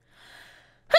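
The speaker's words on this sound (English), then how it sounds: "My sneeze almost killed me!" A person gives a single close sneeze, with a soft drawn-in breath just before the sharp burst.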